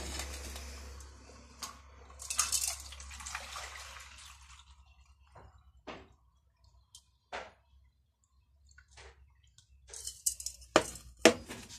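Dirty water from a betta fish tank is poured out with soft splashing and trickling, followed by scattered drips and small clicks in an otherwise quiet room.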